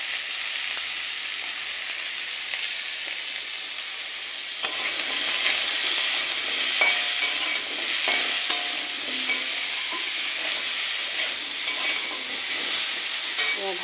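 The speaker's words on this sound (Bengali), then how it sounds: "এগুলোকে তেলে দিয়ে ভালো করে ভাজা ভাজা করে নেব।" Raw banana, potato and papaya pieces frying in oil with salt and turmeric, a steady close sizzle that grows louder partway through, with scattered stirring clicks on top.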